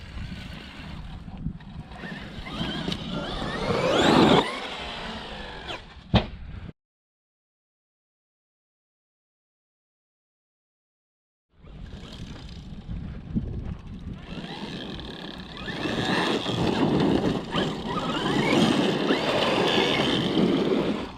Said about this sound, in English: Little bit of gear noise now.